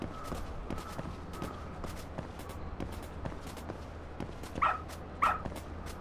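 A dog barks twice in the video game Lost Judgment, short sharp yips standing out over a steady low game ambience with soft footsteps, fairly faint overall.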